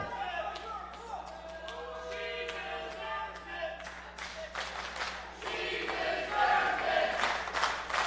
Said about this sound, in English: This 2PW crowd getting behind Dutters.